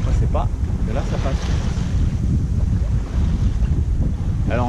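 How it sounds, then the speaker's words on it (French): Strong coastal wind buffets the microphone aboard a small sailboat at sea, a loud continuous roar mixed with surf and water wash, with a few brief voice fragments rising through the noise. "on se retrouve avec le vent dans le pif"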